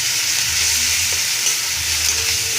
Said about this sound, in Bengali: এবার দেবো লঙ্কার গুঁড়ো ভালো করে নাড়িয়ে দেবো